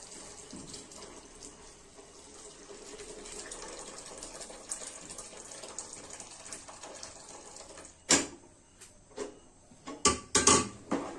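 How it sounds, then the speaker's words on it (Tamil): Quiet running water trickling and splashing as lentil cooking water is poured into a pot of sambar, followed by a few louder clanks and knocks near the end. "நான் பருப்பு வேக வச்ச தண்ணியை சேர்த்திக்கிறேன்"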